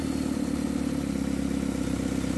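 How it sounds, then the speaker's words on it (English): A diesel-engine pump idles at reduced speed below 1,200 RPM during its cool-down, a steady low droning rumble that runs unbroken and fairly loud throughout. "Allow the pump to run for at least 2 minutes at this lower speed to cool down."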